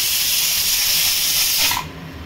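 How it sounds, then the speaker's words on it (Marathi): Poli flatbread roasting on a hot pan gives a loud, steady steamy hiss that cuts off sharply near the end, leaving only quiet room sound. "तर आता आपण पोळी भाजून घेतोय."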